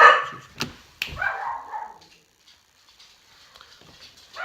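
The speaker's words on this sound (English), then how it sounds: "sorry for the dogs barking there at the end" A dog barks a couple of times nearby, sharp yaps followed by some whimpering and then quieter sounds and another bark at the end.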